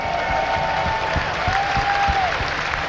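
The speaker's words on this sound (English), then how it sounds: "Give him a big round of applause" Steady audience applause fills a StarCraft II tournament hall after a player interview, continuous and dense throughout with a faint tonal whine drifting across.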